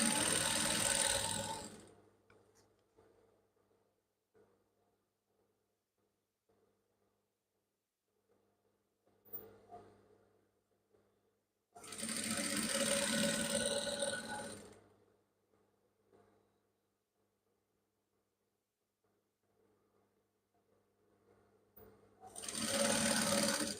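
A sewing machine stitches the half-inch inner thigh seam of a pair of trousers in three loud bursts, separated by quiet stretches with faint handling noise.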